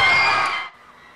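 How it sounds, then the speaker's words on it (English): A standing-room-only basketball crowd roars and cheers loudly for about half a second, then the noise drops away abruptly to a faint murmur. "a standing room only crowd rose to its feet"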